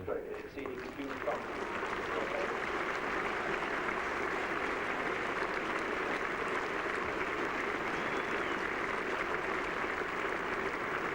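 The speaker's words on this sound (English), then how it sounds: "Applause from Ian Botham as he comes out." Sustained crowd applause at a 1981 England v Australia test match at Headingley, steady and dense throughout, with a few louder cheers near the start, from a large cricket crowd.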